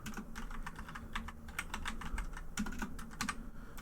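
Fingers type on a computer keyboard, a close run of quick, uneven key clicks with brief pauses and no talking.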